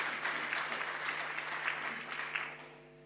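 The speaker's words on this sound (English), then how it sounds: "Give him a round of applause." Steady applause from an audience at a talk, continuous clapping filling the whole stretch at moderate volume with no voices over it.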